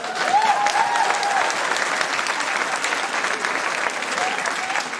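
Sustained applause from an audience at a live stage show of Fr Ted & The Holy Ghost in Brackaville, a dense, steady wash of clapping with a brief whistle early on.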